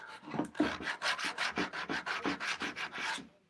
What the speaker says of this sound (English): again I'm making one more time sanding with 320